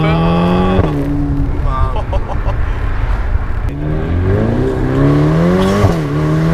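A Ferrari sports car engine revs and climbs through the gears in manual mode, sport setting, ESC off, its tone rising and dropping with shifts, loud and close, with a voice talking over it.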